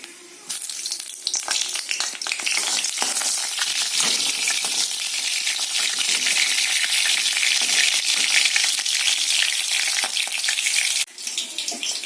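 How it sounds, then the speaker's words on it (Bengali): Nigella seeds and green chillies hit hot oil with a sudden loud, bright crackling sizzle that holds steady for several seconds, then cuts off abruptly. "আর এতে ফোড়ন দেবো কালো জিরে, আর দেবো 2টো কাঁচা লঙ্কা।"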